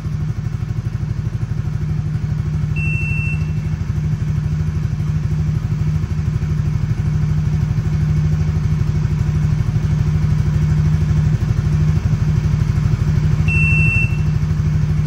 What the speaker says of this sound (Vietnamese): tôi sẽ tiến hành là nổ máy